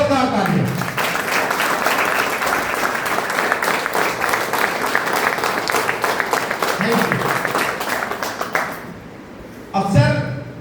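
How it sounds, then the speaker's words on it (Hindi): Applause from an audience at a health and wealth awareness program, dense clapping under a speaking voice that continues almost throughout, fading near the end before a brief burst of voice. "आप सभी के खुद के हेल्थ के लिए एक बार जोरदार तालियां"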